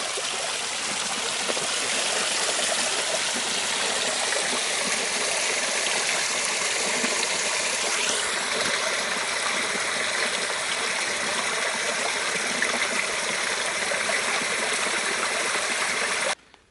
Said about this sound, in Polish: Tu mamy wodospad.